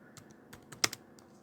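Keys on a computer keyboard are tapped in a sparse, uneven run of close, crisp clicks, with one sharper keystroke standing out in the middle.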